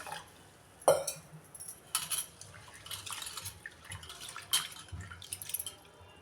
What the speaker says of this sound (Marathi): आपल्याला हे स्वच्छ दोन तीन पाण्यानं धुवून घ्यायचं आहे